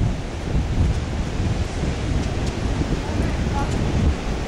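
Surf washes in at Henley Beach, South Australia, under strong wind buffeting the microphone, a dense, continuous roar with no clear breaks.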